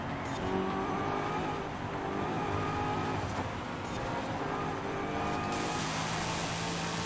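A 2009 Chevrolet Corvette ZR1 V8 engine in Forza Horizon 5 revs loudly and continuously, a dense roaring drone with shifting pitch, heard up close without any talking.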